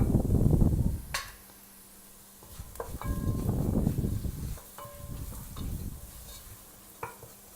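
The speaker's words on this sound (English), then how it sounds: "We throw in the chili now." Chili stirred into a sizzling turmeric spice paste in a pan, with a steady fry hiss broken by scraping stirs and a few light metallic clinks of the spoon, close and fairly loud, with no talking.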